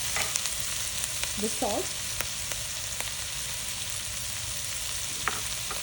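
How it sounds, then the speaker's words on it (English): Green bell peppers (Shimla mirch) half fried in a pan, with a steady mid-level sizzle, a few sharp crackles and a brief spoken word over the frying. "Now you can see the Shimla mirch are about half fried."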